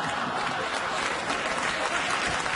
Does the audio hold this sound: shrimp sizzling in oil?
no